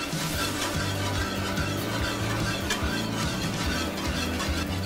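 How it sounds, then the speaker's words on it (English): Whisk working cubes of butter into a lemon beurre blanc sauce in a pan, a continuous busy scraping and swishing with a soft sizzling bed underneath, steady and close with no talking. "we just want to whisk that through and let that sauce emulsify and thicken"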